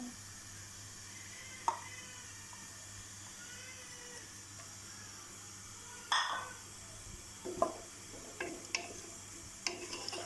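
Onions sizzle quietly in a generous amount of hot oil as the base for chana dal with pumpkin and chicken, a faint steady fry broken by a few sharp scrapes and clinks of stirring.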